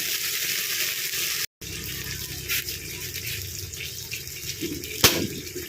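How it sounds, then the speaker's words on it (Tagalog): Water is poured into a pan of tomato-sauced tilapia, a steady liquid rush and light sizzle running a few seconds with a brief break, then a short sharp clatter near the end. "Tapos maglagay na po tayong konting tubig."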